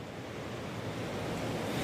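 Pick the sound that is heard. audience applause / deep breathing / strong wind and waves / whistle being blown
strong wind and waves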